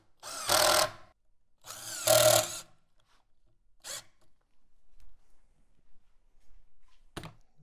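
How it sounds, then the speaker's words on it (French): A power drill pre-drills screw holes in wood for a mobile workbench, letting out two short, loud bursts about a second apart, followed by a sharp knock and a few faint handling sounds, with no voices. "Tracez votre ligne directrice et prépercez vos trous de perçage."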